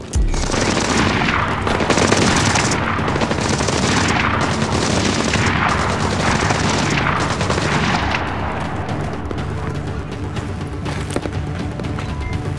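Sustained gunfire from a firefight in the stealth action game Splinter Cell Blacklist, set in Benghazi, Libya: loud, dense bursts of automatic weapons and shots that continue without a break, easing slightly toward the end.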